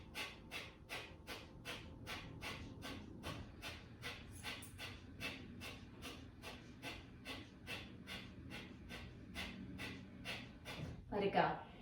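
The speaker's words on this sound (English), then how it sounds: "let's do a little round of fire breath to wake up that core" Fire breath during a yoga flow: a long steady train of quick, sharp exhales through the nose, evenly spaced and close, ending with a louder release.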